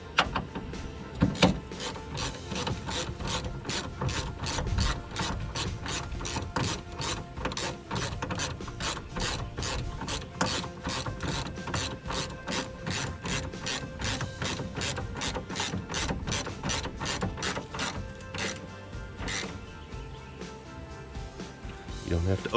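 A ratchet wrench clicks rapidly and continuously while a bolt on a Chevy Duramax truck is tightened near the battery hold-down, a dense close metallic ratcheting that keeps going with only brief pauses.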